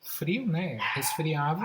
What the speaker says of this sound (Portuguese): Eu peço desculpas pelo latido